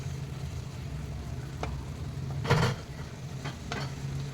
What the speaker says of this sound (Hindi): ये सारी सब्ज़ी मैं इसमें डाल रही हूँ